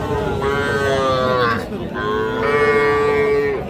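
A young bull calf at a cattle market lets out a loud, close, drawn-out moo, pausing briefly before a second long bellow, with faint background noise.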